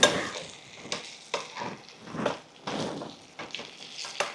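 Raw mango pieces drop into a pan of brinjal curry as it cooks, followed by a series of close, irregular scraping stirs with soft sizzling between them, and no voices.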